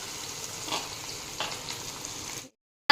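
Steady hissing sizzle of onion frying in hot oil with cumin, loud and close, with a couple of brief stirring scrapes, ending abruptly in silence.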